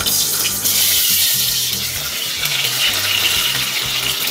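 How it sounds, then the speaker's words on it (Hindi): Potatoes drop into hot, smoking mustard oil for spicy achari aloo and set off a loud, dense, continuous sizzle that holds steady throughout with no talk. "इस स्टेज पर अब हम डाल देंगे इसमें अपने आलू"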